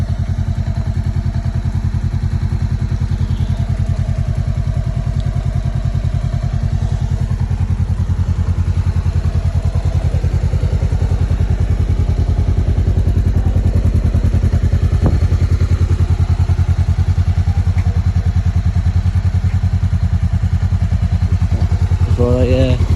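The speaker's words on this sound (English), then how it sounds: "sound nice, it's not too loud, throaty enough, sound powerful, sporty little CBR 500." A Honda CBR500R sport motorcycle engine runs continuously with a loud, throaty idle and a few short revs. Clattering is heard throughout, and a person talks over it.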